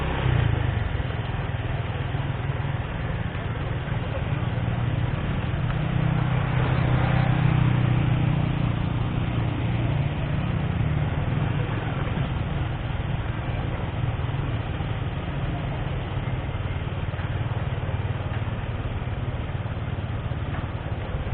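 A motorcycle engine runs steadily on a ride through the old town of Semarang, giving a continuous low drone with faint road and traffic noise around it.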